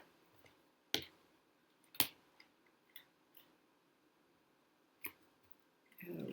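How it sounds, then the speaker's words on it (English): A small piece of air-dry clay is cut with several sharp, separate clicks and snips spaced about a second apart in a quiet room, ending with a brief rustle. "I'm going to cut a little teeny piece off."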